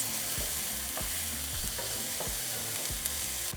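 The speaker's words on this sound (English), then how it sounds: "we're going to add half an onion and one small green pepper. We're going to saute for 3 minutes" Half an onion and a small green pepper sauté in hot oil, a steady, close sizzle with periodic scraping stirs repeating every second or so throughout.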